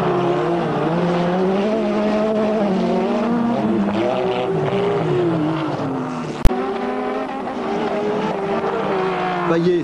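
Rallycross car at Lohéac in 1991 accelerating and cornering, its engine a loud, continuous drone that rises and falls slightly with one sharp knock partway through, while a commentator talks throughout.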